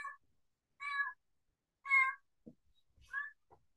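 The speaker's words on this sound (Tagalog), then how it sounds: "Nakipag-usap sa akin yung aking pusa." A pet cat meows four or five times in a row, the calls close and clear, separated by short pauses, with a few faint soft knocks between them.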